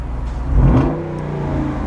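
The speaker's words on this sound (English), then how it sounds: "I was able to make the exhaust louder and more quieter with this button" A Jeep Wrangler Rubicon 392 V8 exhaust in loud mode, heard from inside the cabin as a steady deep rumble that swells briefly, near and loud throughout.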